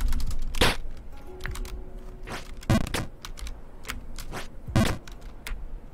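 Computer keyboard keystrokes during a streamer's game session, scattered clicks and a few heavier clacks in an irregular rhythm, close and fairly quiet with no talk.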